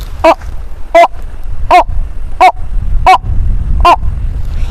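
A person imitates a Malabar pied hornbill's call with six sharp, nasal honking notes spaced at a steady rhythm over a low background rumble.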